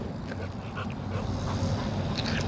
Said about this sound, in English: you shouldn't walk close to a dog like that that's barking at you